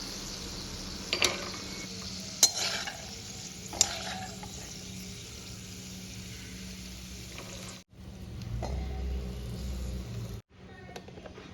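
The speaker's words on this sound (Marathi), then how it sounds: "शेंगदाणे जर आधी तळले तर शेवटपर्यंत आपल्या रेसिपीमध्ये कुरकुरीत राहतात" Peanuts frying in hot oil give a faint, continuous sizzle with a few sharp spatula clinks early on, then cut out briefly twice before the quiet frying hiss returns; no talking.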